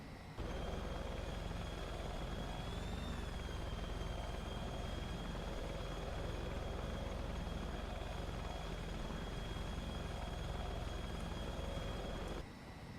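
Virtavia AH-64D Apache helicopter in FSX flight simulator, a steady loud rotor and turbine drone with a high whine, running unbroken through the whole stretch with no talk.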